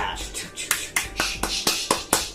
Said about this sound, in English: you just whisk the crap out of them. The whole egg, just keep whisking